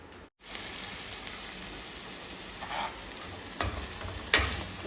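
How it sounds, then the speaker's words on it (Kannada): Brinjal frying in a covered pan fills the space with a steady, soft sizzle and crackle, broken by a brief pause near the start and a few sharper pops and clinks near the end. "ಬದನೆಕಾಯಿನ ಹಾಕಿ ಸ್ವಲ್ಪ ಮುಚ್ಚಿ ಫ್ರೈ ಮಾಡೋಣ"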